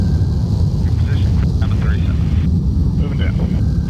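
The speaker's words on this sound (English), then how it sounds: "as we have full afterburner here on the J58s" The J58 engines of a Lockheed SR-71 Blackbird roar at full afterburner in the X-Plane flight simulator, a loud, steady, dense rumble that runs throughout beneath ongoing speech.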